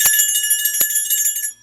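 Small bright bell rung to announce a caller, a few quick metallic dings with a shimmering ring that fades after about a second and a half.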